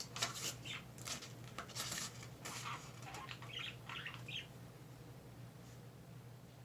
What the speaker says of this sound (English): I apologize for my birds. They're pretty loud in the background.